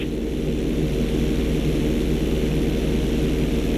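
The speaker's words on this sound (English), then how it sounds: "want you to try to hold a knife edge with your plane. Okay, perform a knife edge." A steady, unbroken drone from an airplane engine held in a knife edge during a flight school mission in Grand Theft Auto 5, loud and constant with a low rumble throughout.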